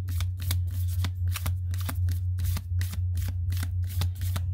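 Tarot cards shuffled by hand during a reading: a steady, continuous riffling flutter of close, crisp card snaps over a low constant hum, with no speech.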